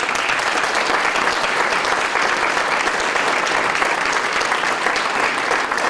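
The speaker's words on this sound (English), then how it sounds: "Let's give Julie a round of applause." The crowd at a Romulus Hometown Heroes recognition event gives an honoree a loud, sustained round of applause, thick, continuous clapping with no pause for the whole stretch.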